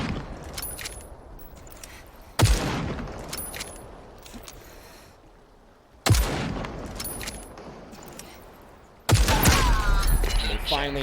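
Gunfire in the Super People battle royale game, with three sharp, loud shot bursts spaced a few seconds apart and a continuous fight ambience between them, plus a quick metallic rattle near the end.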